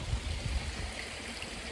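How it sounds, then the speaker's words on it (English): A stream on a UK river flows near a waterfall, giving a soft, steady rushing wash that stays even throughout the short stretch. "there's a lot of waterfall"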